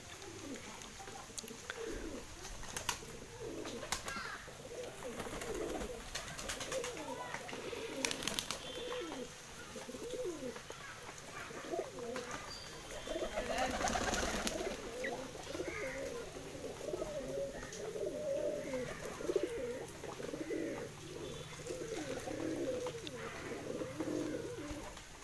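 Pigeons coo repeatedly in a home pigeon loft, a steady chorus of low, throaty calls layered over one another at moderate distance throughout, with some rustling and no talk.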